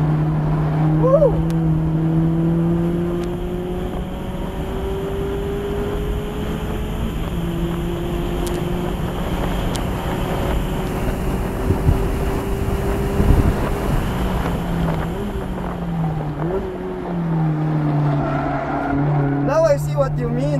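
A Mazda Miata on a wet race track drones at full throttle from inside the car, its engine note rising and dropping through gear changes under loud excited talk from the occupants.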